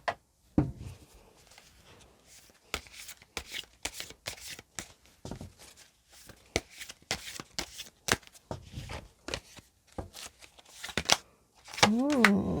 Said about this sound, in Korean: 우리 4번 분들을 위한 오라클 메시지 카드도 추가로 더 뽑아 볼게요